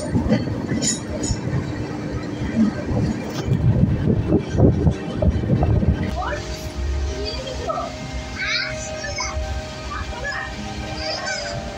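The Samudrakanya Express, an Indian passenger train on the Digha to Puri route, runs between Tamluk and Panskura, its steady rumble and rattle rolling on throughout with a brief honk-like horn or whistle and faint voices mixed in.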